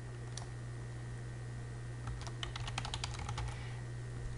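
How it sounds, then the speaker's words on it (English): Rapid bursts of computer keyboard typing and backspace key presses while erasing and retyping lettering on a sign-making setup, close and crisp over a steady background hum, with a short pause before the clatter of keys. "I just push my backspace button and type in what you would like to have."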